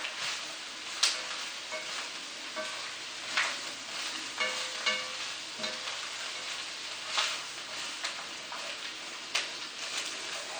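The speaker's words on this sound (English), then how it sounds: "You saute all the vegetables together." Vegetables for borscht beet soup sauteing in a pan, a steady sizzle and fry with repeated scraping stir strokes throughout, fairly close and alone with no talk.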